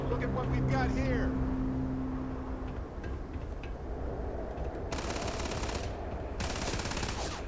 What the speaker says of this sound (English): I don't know what you're shooting at